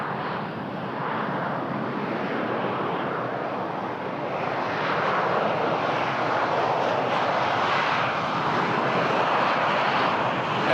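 A Boeing 747 at Toronto Pearson airport gives a steady, loud jet engine roar that swells slightly and holds throughout without breaks.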